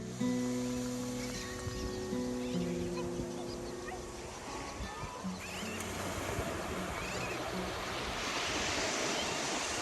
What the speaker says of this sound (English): The path led out onto the gorgeous and very welcoming Ned's Beach.